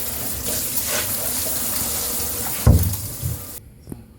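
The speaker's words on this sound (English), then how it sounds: "finished rinsing the gravel in the shower" Steady running shower water pours while aquarium gravel is rinsed in an apartment bathroom, a broad continuous rush with a heavier splash and clatter near the end before it cuts off abruptly.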